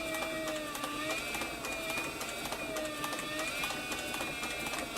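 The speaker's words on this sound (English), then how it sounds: "I like this servo motor because you can just really slow it down and concentrate on sewing right in the groove." A leather sewing machine with a servo motor stitches slowly, giving a soft, even run of rhythmic ticking and a faint whining hum, with no talking.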